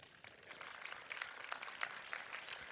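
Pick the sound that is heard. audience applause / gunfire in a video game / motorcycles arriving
audience applause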